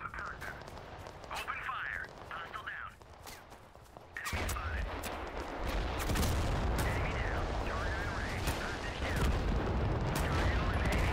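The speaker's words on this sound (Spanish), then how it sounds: "con nuestra artillería estamos machacando" Heavy artillery and tank cannon fire in a tactical war video game, with repeated booming blasts and rumbling gunfire building to a dense, continuous barrage, while someone talks over the action.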